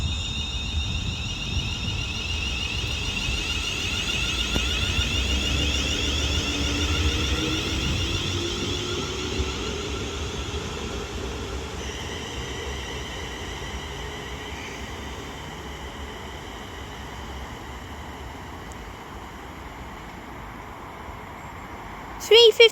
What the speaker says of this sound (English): departs Longport now with the 14:05 London North Western Railway service to Crewe from Stafford